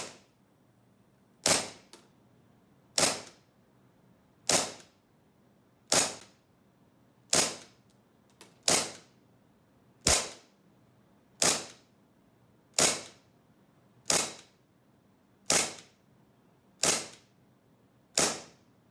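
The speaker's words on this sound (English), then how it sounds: "first we're going to test this 1911 using the green gas magazine" An SRC SR-1911 full-metal gas blowback airsoft pistol fired on green gas, giving twelve sharp, loud cracks with metallic slide clacks, evenly spaced about every second and a half against near silence.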